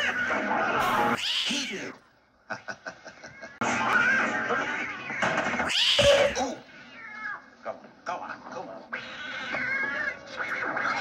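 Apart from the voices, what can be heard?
cats on a piano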